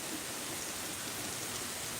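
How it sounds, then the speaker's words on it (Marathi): Heavy rain pours down steadily in Bidkin, Chhatrapati Sambhajinagar, a dense, even wash of noise with no pauses or voices, over a short stretch. "अतिशय जोरदार पाऊस बिडकीनमध्ये सुरू आहे"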